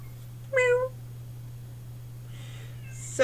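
A cat meows twice indoors, a clear close meow early on and a fainter, rising one near the end, over a low steady hum.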